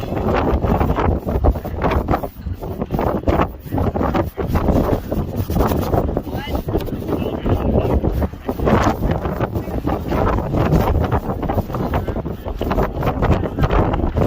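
Strong coastal wind at Lands End Lookout buffets the microphone continuously with gusty roaring and rustling, loud and close, with no clear talk.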